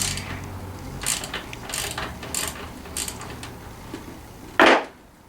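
Ratchet loosening the oil drain bolt on a scooter, a run of quick clicking ratchet strokes close by, ending in a sharp louder metallic clunk as the part drops.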